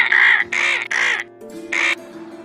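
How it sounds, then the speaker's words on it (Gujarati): A vulture gives four harsh, raspy calls in short bursts, loud and near, separated by brief pauses. "ગીધ એ શિકારી પક્ષી છે તે કેવી રીતે અવાજ કરે તે આપણે જોઈએ"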